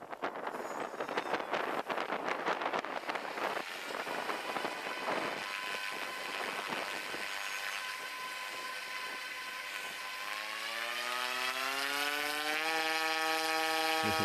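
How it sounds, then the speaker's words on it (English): A Huey helicopter spins up to depart at a field deployment, its rotor and turbine whine rising steadily in pitch with a dense, rushing wash of noise and wind buffeting the microphone, loud and close, with no talk. "You can see the Huey now spinning up, getting ready to depart, and off it goes."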